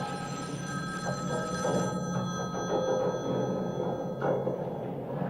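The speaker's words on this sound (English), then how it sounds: "Your phone's ringing." A telephone bell rings steadily in a dense, continuous burst, loud and close, with a busy background beneath it.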